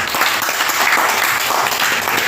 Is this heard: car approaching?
no